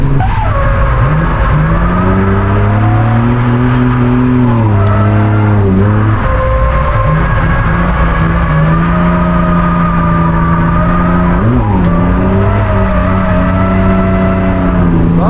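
A V8 car driven hard around a race circuit, the engine roaring loud and close throughout, its pitch rising and dipping with gear changes and lifts, with occasional tire squeal.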